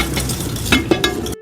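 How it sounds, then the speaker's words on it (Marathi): Whisking condensed milk into whole wheat cake batter in a bowl: a close, wet, continuous stirring rasp with a few clinks of the whisk against the side, loud and alone, ending abruptly. "यालाही छान फेटून घ्यायचं।"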